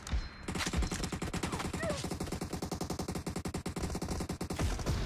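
Rapid automatic gunfire in a video game, a long steady burst of evenly spaced shots, loud and continuous for several seconds.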